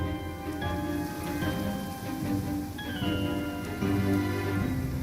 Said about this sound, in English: Ah, sweet, sweet rain.